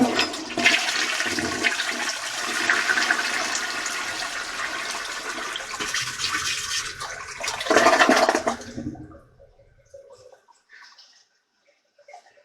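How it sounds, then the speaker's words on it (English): A household toilet flushing up close, a loud rushing surge of water for about nine seconds that drains away into faint trickles and drips as the tank refills. "Let's flush this and see what we got."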